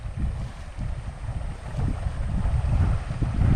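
Strong wind gusting outdoors, rumbling and buffeting the microphone continuously with no voices.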